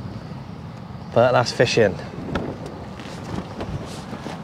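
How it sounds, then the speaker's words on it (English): Steady wind buffets the microphone on a Bristol Channel shoreline during sea angling, a constant low rumble under a man's speech. "It's pretty windy. It's pretty horrible, actually."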